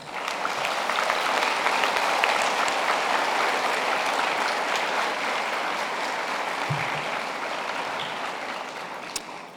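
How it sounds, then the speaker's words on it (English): A big, warm round of applause at a graduation ceremony, honoring the supporters of the graduates: sustained, even clapping from a large crowd that holds steady throughout with no speech over it. "giving them a big warm round of applause"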